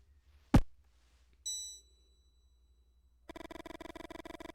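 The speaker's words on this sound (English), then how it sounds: "Suddenly the bell rings and you feel an invisible force trying to drag you into the present" A bell rings in the video game Mothmen 1966, a single bright strike with a ringing tone followed by a sustained chime, then a dense rhythmic pulsing tone that fills the rest of the moment.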